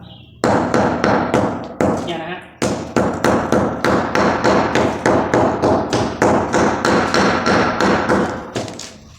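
A hammer knocks loose old mortar off a floor before tiling: a steady run of sharp, loud, close blows in an even rhythm of roughly three per second, with a brief spoken remark near the start.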